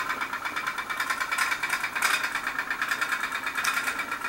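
A small candle-powered pop-pop steam boat engine putters in a steady, rapid pulsing rhythm, close and fairly loud, running on alone with no talk.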